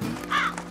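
Cartoon birds eating seeds in a sown field let out a short, harsh caw, brief and mid-distance over soft background music.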